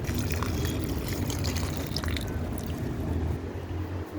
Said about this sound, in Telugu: ఏ ఏ మొక్కలకి ఇచ్చానో ఆ మొక్కలన్నిటికి ఇక ఇట్లా వాటర్ పోసుకుంటాం